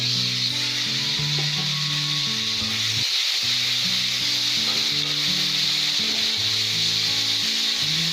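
Tomatoes and turmeric frying in a pan for baingan bharta, a steady close sizzle running throughout with a brief dip near the middle, with no speech.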